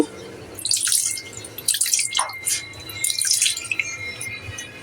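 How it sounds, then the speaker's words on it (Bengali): Small splashes of water are poured in three short bursts into a pot of beef and pumpkin curry spiced with cardamom and cinnamon, heard close up with quiet gaps between. "হাত ধুয়ে অল্প করে পানি দিয়ে দেব"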